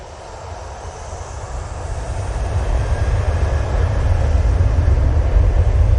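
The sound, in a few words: Jet2 airliner turning on the runway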